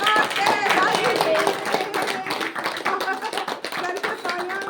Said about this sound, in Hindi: देखो ताली तो बजाइए